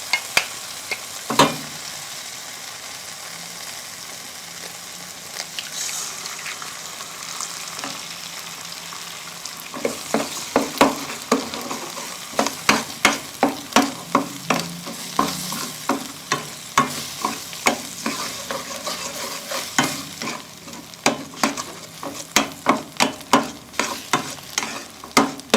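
An egg frying in hot oil for petai fried rice, a steady sizzle under repeated sharp scraping strokes of a spatula stirring it in the pan, close and loud with no talking.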